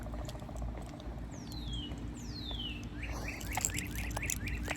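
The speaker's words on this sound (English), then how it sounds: "The birds are up." Several birds call outdoors in the morning, with rising and falling whistled chirps and short tweets scattered over a steady background hum, fairly faint and with no talking.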